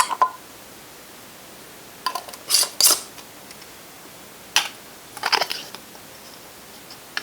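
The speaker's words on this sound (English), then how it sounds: "So just place the lid on and just tighten the ring, hand tight." Canning jars of seasoned red kidney beans being closed for pressure canning: several short, crisp metallic clicks and scrapes as lids are set on and rings screwed hand tight, close up over quiet room tone.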